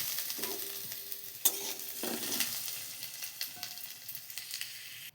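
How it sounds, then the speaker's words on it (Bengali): Potato pieces fry in oil in a kitchen pan, giving a soft continuous sizzle broken by a few sharp stirring scrapes and clinks of the utensil against the pan, close and fairly quiet. "আলুগুলোকে তেলে নিয়ে ভাজলাম"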